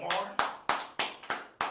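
Several hands clap in a steady run of about six sharp, loud claps, close and evenly spaced, given for a precinct officer at a gathering.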